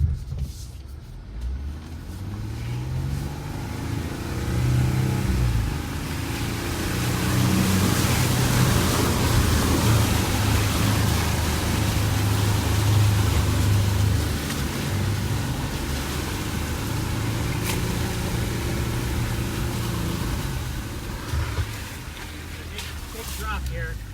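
A Jeep engine rumbles and surges while the vehicle churns through a mud bog, with a steady low drone, rising noise of slosh and splatter, and people talking over it inside.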